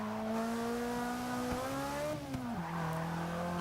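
A 2015 Volvo S60 Polestar in the Forza 6 racing game drones steadily at high revs, its engine note climbing, then dipping as a gear shifts near the end, loud and continuous with no talk.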